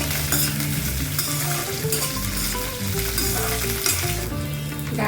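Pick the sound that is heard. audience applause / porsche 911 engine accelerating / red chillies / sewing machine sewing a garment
red chillies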